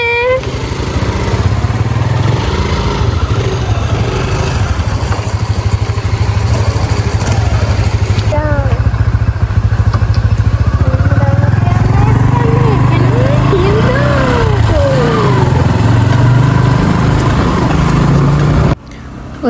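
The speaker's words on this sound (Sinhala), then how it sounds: "අපි බයික් වලට නැගලා ආයි යන්න තමා ලෑස්ති වෙන්නේ." Two motorbikes rev and run near a beach by Dondra lighthouse, their engines droning loudly and steadily, with pitch swells as they pull away and voices heard over the noise.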